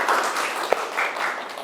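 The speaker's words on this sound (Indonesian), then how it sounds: "Tepuk tangannya sekali lagi untuk kelompok" Group applause from a classroom audience after the third group's presentation in a university teaching session, a steady, fairly distant wash of clapping with one sharper clap standing out.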